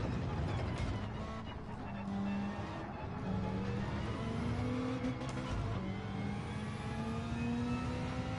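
Turbocharged racing car engine in Gran Turismo 7, heard from the cockpit view as a steady droning pitch that rises through gears with brief shifts, loud and continuous with some tire noise.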